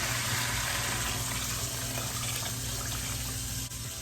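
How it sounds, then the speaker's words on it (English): Steady rushing of cold water pouring into a pot for pea soup, a continuous close gush with no talking. "And then I add my cold water."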